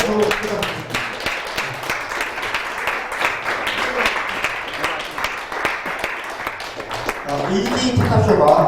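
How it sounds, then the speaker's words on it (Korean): An audience claps for a speaker at a success-story lecture event, a sustained patter of applause running throughout while a voice talks over it. "다시 한번 뜨거운 박수 부탁드립니다"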